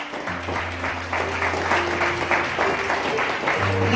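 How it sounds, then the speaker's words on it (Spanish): Steady applause from a church congregation, a continuous wash of clapping that holds for several seconds with a low sustained hum beneath it. "Un aplauso al Señor."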